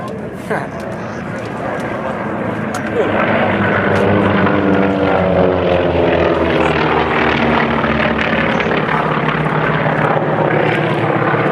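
A trainer warbird at the 2012 Rocky Mountain Air Show flies a tuck-under break, its propeller engine building to a loud, steady drone that holds near and strong.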